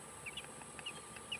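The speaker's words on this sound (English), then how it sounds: "They black chickens." Black chickens cluck softly in a few short, bright bursts close by, the calls scattered over a steady low background hum.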